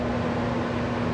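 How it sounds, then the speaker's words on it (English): A workshop air filter pulls paint fumes from the room with a steady, dense whoosh of rushing air and a low motor hum, constant and close. "That noise you hear, that's my air filter sucking some of the fumes out of here."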